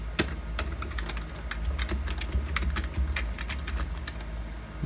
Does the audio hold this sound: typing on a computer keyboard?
yes